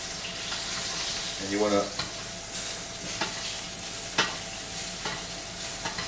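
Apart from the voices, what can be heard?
butter sizzling in a pan, spooned over beef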